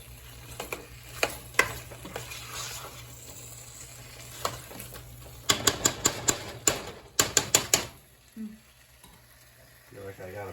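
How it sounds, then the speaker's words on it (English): Indian butter chicken sauce stirred in a pot on the heat, with scattered clicking and tapping of the utensil against the pot over a low sizzle, including a rapid burst of taps, close and fairly quiet. "Yeah, that means keep stirring, or maybe just turn the heat down just a tad."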